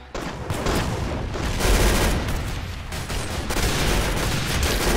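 Dense, continuous gunfire in the Roblox shooter Arsenal, a steady loud barrage of overlapping shots with no talking.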